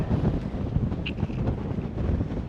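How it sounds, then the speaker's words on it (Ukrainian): Strong sea wind by a seaside apartment in Hurghada, Egypt roars steadily across the microphone, a dense low rumble that buffets without pause for the whole stretch. "Сьогодні вітряно дуже."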